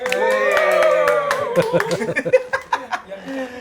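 An audience claps at an event, a burst of scattered hand claps rising out of laughter and overlapping voices, the claps growing sharper and more distinct toward the end.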